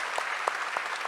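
An audience at a film festival Q&A in Mumbai applauds, a short burst of dense, steady clapping from a room full of people, heard from nearby.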